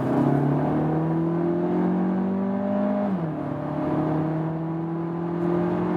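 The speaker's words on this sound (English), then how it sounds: "let's see how the kickdown works here from 50 to 100" Audi Q3 Sportback 1.5 TFSI under kickdown acceleration from 50 to 100 km/h, engine whirring and rising in pitch, dropping briefly at a gear shift before climbing again, heard steadily from inside the car.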